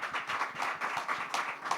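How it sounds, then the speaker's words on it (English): An audience at a GFF'25 conference session gives a speaker a round of applause, a brief, moderately distant burst of rapid, overlapping handclaps with no voices over it. "let's give her a huge round of applause once more"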